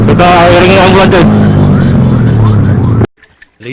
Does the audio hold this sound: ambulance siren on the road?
yes